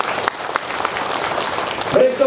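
Crowd applause at a political rally in Tanjung Malim, Malaysia, a continuous rush of clapping at moderate distance, mixed with voices.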